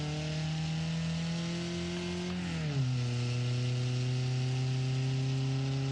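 Truck engine in the driving game BeamNG.drive, a steady droning hum that drops in pitch partway through as the revs fall, then settles at a lower tone, alone without voices.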